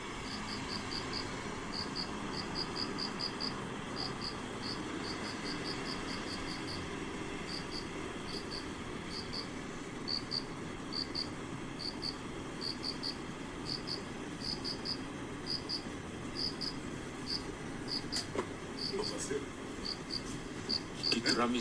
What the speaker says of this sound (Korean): 귀뚜라미 소리.